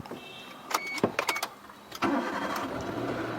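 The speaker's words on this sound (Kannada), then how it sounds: "ಆಮೇಲೆ ಗಾಡಿ ಸ್ಟಾರ್ಟ್ ಮಾಡಿ." A used car being started, with a starter crank and clicks leading into the engine catching at about two seconds and settling into a steady close idle, no talk over it.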